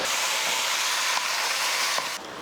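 Country chicken sizzles steadily in sesame oil with salt and turmeric in a cooker, a loud continuous frying hiss that holds level throughout and softens slightly near the end.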